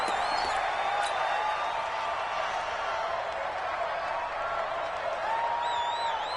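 Stadium crowd before a Philadelphia Eagles versus Tampa Bay Buccaneers football game, a steady distant roar of cheering and clapping throughout, with faint whistling tones drifting over it.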